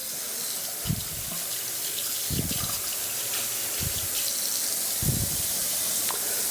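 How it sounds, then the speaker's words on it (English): Water runs from a faucet in a home, a steady hiss punctuated by several low gurgling surges about every second and a half, close and fairly loud, with no voices. "I'm going to go ahead and turn this water on here"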